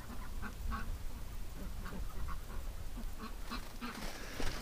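Ducks on a snowy winter farm quack in scattered, fairly faint calls over a steady outdoor background of wind and rustle, with no voices.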